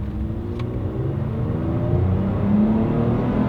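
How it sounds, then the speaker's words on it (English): A Toyota Tacoma engine fitted with a Pedal Commander throttle controller revs steadily, the rpm climbing with a rising drone heard from inside the cab, continuous and fairly loud. "You can see those RPMs just pulling."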